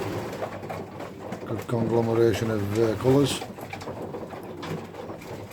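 Racing pigeons cooing in an allotment loft, soft repeated coos close by under a voice as he talks over them.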